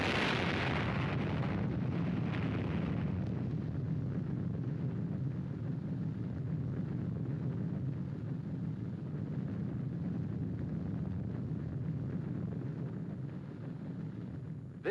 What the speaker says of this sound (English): This was the fiery birth of the atomic bomb